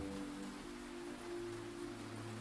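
Soft, steady rain falls at night over a quiet laundromat, a continuous even hiss with a low hum beneath it, unbroken and moderately faint throughout.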